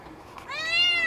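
A cat lets out a loud, drawn-out meow, rising and holding its pitch, close to the microphone with no talking.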